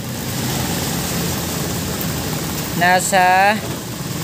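Hyundai Accent engine idling steadily at about 1200 RPM, a close continuous drone, with someone speaking briefly over it near the end.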